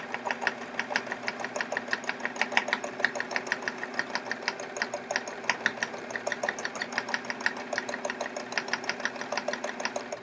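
A sewing machine stitching stipple quilting on a chevron quilt runs in a fast, even, mechanical rhythm of needle strokes at close range. The whirring clatter continues steadily with no talking.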